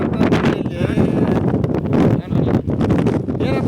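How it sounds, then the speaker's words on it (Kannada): Strong wind on a hill near Gangavati buffets the microphone in a loud, continuous roar while a person speaks over it. "ಈ ಗಾಳಿ ಸಿಕ್ಕಾಪಟ್ಟೆ ಬರ್ತಾ ಇದೆ ಗಾಳಿ"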